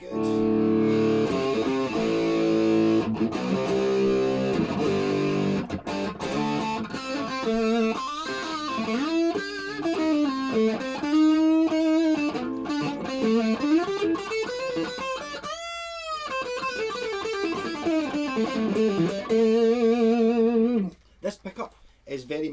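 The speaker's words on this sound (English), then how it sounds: "it loves the distortion. It's for screeching metal, 80s metal." A heavily distorted electric guitar plays sustained notes and bends in an 80s metal style, loud and close, with searing overdriven tone throughout.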